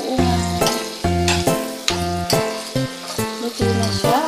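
Pork binagoongan sizzles loudly in a pan under rhythmic stirring, with scraping strokes landing about every half second over a constant frying hiss. No voices are heard.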